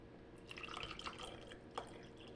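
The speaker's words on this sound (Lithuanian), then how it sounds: "Dabar paimam ir įpilam paprasto vandens" Plain water poured into a glass makes a faint, close trickle with light splashing, a short stream with a couple of small drips, heard alone and quietly.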